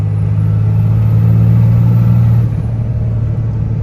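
Cummins diesel truck engine with an S&B cold air intake, droning steadily and loud from inside the cab during a fifth-gear pull, deep engine hum with faint turbo whistle above, easing slightly near the end.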